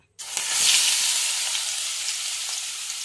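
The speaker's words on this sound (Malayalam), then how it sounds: "ചട്ടി അടുപ്പിലേക്ക് വെച്ചിട്ട് നമുക്കൊരല്പം എണ്ണ ഒഴിച്ച് കൊടുക്കാം. എന്നിട്ട് ഇതിലേക്കൊരു മീഡിയം സൈസ് സവാള, ഇഞ്ചി, പച്ചമുളക്, വെളുത്തുള്ളി ഇത്രയും നമുക്ക് ചേർത്ത് കൊടുക്കാം" Onion, ginger, green chili and garlic drop into hot oil in a pan and burst into a loud, close sizzle that starts suddenly and then holds as a steady, slowly fading hiss.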